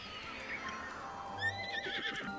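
A horse in The Legend of Zelda: Breath of the Wild whinnies with a rising-then-falling neigh, followed by a few hoof clops, moderately loud with soft ambience underneath.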